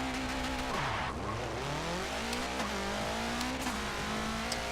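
Engine and tire noise from a car race in Forza Motorsport 7, a heavily tuned VW Type 3 Boxer build: a loud, steady engine drone that rises and falls with gear changes, with brief tire squeal and no talk.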